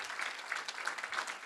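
Short round of audience applause at a university legacy lecture, quiet, even clapping heard from a distance.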